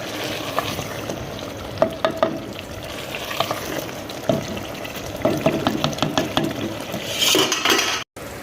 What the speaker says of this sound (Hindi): अभी हम इसको मज़ीद भूनेंगे ताकि हमारे टमाटर भी अच्छी तरह गल जाएं